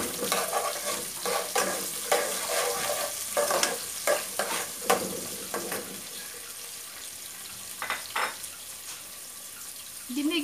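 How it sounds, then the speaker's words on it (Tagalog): Onion and pepper sautéing in a pan for Ilocano-style paksiw of pig's face, with a steady sizzle and repeated scraping stirs up close, a few sharper clatters near the end, and no talk. "Ginigisa ko din ang pepper para lumabas yung aroma."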